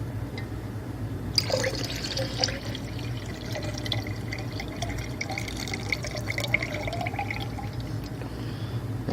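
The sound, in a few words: pouring water into salt water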